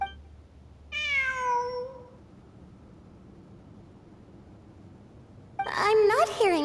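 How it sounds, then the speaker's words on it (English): A cat in the Sumeru ruins of Genshin Impact meows twice: a clear, drawn-out meow near the start, then after a quiet stretch a sharper, louder second meow at the end over a low ambient hum. "It really is a cat."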